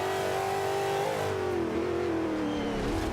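A race car's engine in the Forza Motorsport 5 video game revs loudly and continuously, its pitch climbing and dipping through gear changes over a sustained roar.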